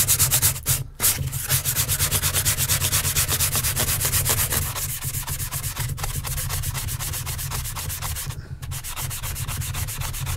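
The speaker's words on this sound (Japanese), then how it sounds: "そしたらフレットを磨いていきましょう。 今回ね、用意するのはそのスポンジ、サンディングスポンジです。" Guitar frets are polished with an 800-grit sanding sponge, giving a steady, close scratchy rubbing that runs almost continuously, broken only by a couple of brief pauses, with no talking.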